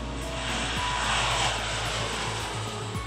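A Lockheed LM-100J turboprop airplane flies past, its steady engine and propeller drone loud and continuous throughout, with a broad rushing roar swelling slightly in the middle.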